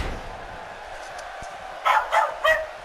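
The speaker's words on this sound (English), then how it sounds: "there's those dogs again" Dogs bark three times in quick succession near the end, sharp and fairly close, breaking through a steady background hum at a wrestling event.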